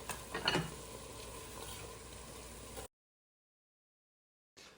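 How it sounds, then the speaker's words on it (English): Homegrown garlic pucks added to softened onions and peppers in a frying pan, making a steady close sizzle with a brief stirring rustle near the start, then a short gap of silence before the sizzle returns. "Now that the onions and peppers have softened, I'm going to add 2 garlic pucks."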